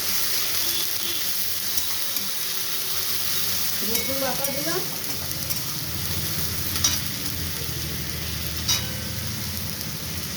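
Garlic paste fries in hot oil for a chickpea curry, a continuous close sizzle with occasional stirring taps and a brief squeak partway through.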